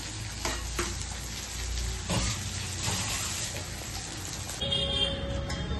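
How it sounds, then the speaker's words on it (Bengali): Onions fry in a pan with a dense, steady sizzle and an occasional stirring scrape, heard close with no talking. "পেঁয়াজগুলো একটু ভাজা ভাজা হলে নুন দেবো"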